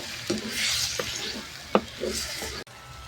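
Dried fish curry being stirred in a pan, with scraping strokes and a soft sizzle, several distinct spoon knocks against the metal at close range, and no talking.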